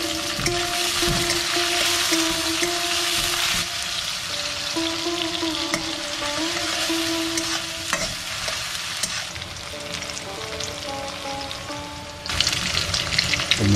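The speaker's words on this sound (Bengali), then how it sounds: "2 ছোট্ট পিসের দারুচিনি, একটু করে ফাটিয়ে নেওয়া এলাচ, এর মধ্যে পেঁয়াজটা দিয়ে দিচ্ছি।" Onion fries in oil with small pieces of cinnamon and cracked cardamom, giving a loud, dense, continuous sizzle with stirring scrapes throughout. A sharper burst near the end.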